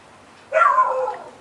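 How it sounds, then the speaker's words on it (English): A single dog gives one short, whining yelp-like bark partway through, fairly close against a quiet indoor background. "Oh, the dogs are barking."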